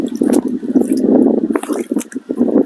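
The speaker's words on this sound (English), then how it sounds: "we're going to take this water and just tip some of it out again" Water tipped out of a tub used for washing a raw sheep fleece splashes and gurgles nearby, an uneven stream of pouring and sloshing that comes and goes.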